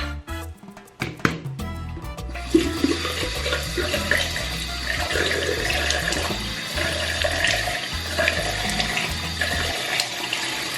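Cold water runs steadily from a bathroom tap in a UK home, a continuous close splashing stream after a few brief knocks at the start, with no talking.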